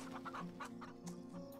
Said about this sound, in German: die New Hampshire Hühner.